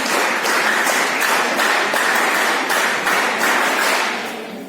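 NCC cadets clapping together at a debate competition, a dense, steady wall of applause that is loud and close throughout, with no voices, easing slightly at the very end.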